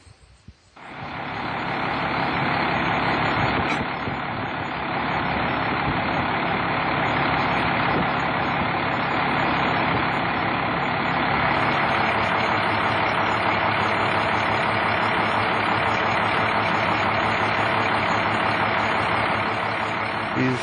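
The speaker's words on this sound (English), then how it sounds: "He has a DT 466 engine. That's 466 cubic inches diesel, turbocharged diesel." A bus's DT 466 turbocharged 466-cubic-inch diesel engine idles loudly and steadily close by, a dense continuous rumble holding for about twenty seconds with no talk.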